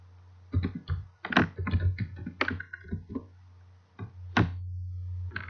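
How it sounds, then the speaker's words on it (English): Typing on a computer keyboard, with quiet, irregular bursts of close key clicks and short pauses over a low steady hum. "I'm going to type it again to give you a chance to think"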